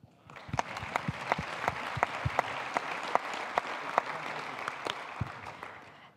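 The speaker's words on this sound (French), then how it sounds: "On peut encore une fois les applaudir bien, bien fort." Sustained audience applause at the close of a conference session, dense steady clapping with a few sharper individual claps standing out, fairly loud and continuous throughout, fading slightly at the end.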